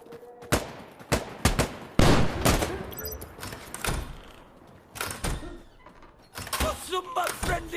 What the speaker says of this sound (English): Stop that! Stop shooting!